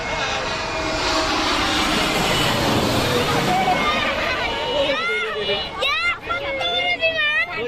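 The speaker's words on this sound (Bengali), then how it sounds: "এয়ার ইন্ডিয়ার এয়ারবাস মডেলের এই বিমানটি এখন ছৌ মেরে নেমে যাবে" An Air India Airbus airliner roars loudly overhead on its landing approach, a broad sustained engine rush that swells and fades, while a crowd of onlookers chatters and calls out near the end.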